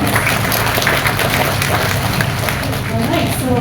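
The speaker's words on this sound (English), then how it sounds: "Let's give her another round of applause." Convention audience applauds Nadia in sustained, loud, crowded clapping, with voices talking over the noise throughout.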